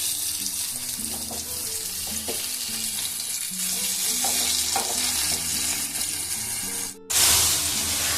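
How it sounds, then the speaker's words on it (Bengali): Lentil dumplings (dhoka) fry in hot oil, giving a steady close sizzle with faint clinks of turning, a brief pause near the end, then a louder burst of crackling. "ধোকাগুলো খুব সুন্দরভাবে ভাজা হয়ে গেছে"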